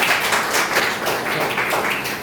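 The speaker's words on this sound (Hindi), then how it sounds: "सारे बच्चों ने तालियां बजाकर अपने सहपाठी का, अपने मित्र का, अपने भाई का स्वागत किया ताली बजाकर" Schoolchildren clap together to welcome a classmate being honored with a garland by their teacher; a dense, sustained burst of many hands, loud and continuous with no talk over it.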